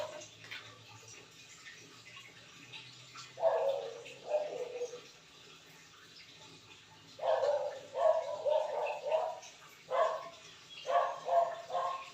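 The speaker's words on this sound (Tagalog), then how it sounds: "Nag-iingay na naman ang aming aso." A dog barks in several short clustered bursts, moderately close, with quiet pauses between volleys over a faint steady background hum.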